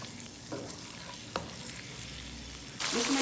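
Palak chana frying in a pan, a faint, steady sizzle broken by two soft spoon scrapes before a louder burst of hissing near the end.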